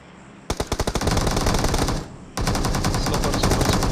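Automatic gunfire from a battle royale match on the Erangel map: a short burst of separate shots, then two long sustained bursts of rapid fire, loud and close, with a brief gap between them.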